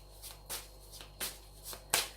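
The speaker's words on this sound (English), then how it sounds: "as I'm shuffling the deck" A deck of tarot cards being shuffled close up, with several quick riffling bursts in an uneven rhythm and a sharper snap at the end.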